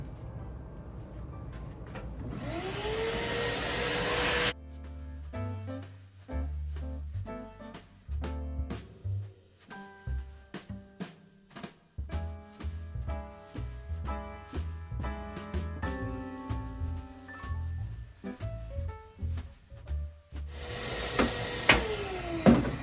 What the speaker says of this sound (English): Let me vacuum some of this out.